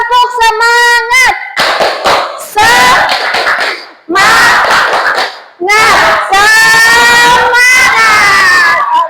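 Classroom students perform a rhythmic clapping chant in unison, bursts of clapped beats alternating with loud group shouts and pauses, close and energetic with a teacher's voice leading.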